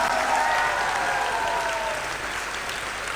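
A school play audience applauds, a dense continuous clapping from many hands throughout, fairly loud and steady with a faint murmur of crowd beneath.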